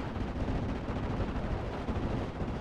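Dense, continuous gunfire fills the air as anti-aircraft weapons shoot down B-26 Marauder bombers in Steel Division: Normandy 44, a loud unbroken rumbling barrage with no pauses.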